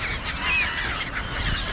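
Seagulls and crows compete for food on a wintry day, their raspy overlapping calls and honking cries close by and fairly loud, running continuously through the moment.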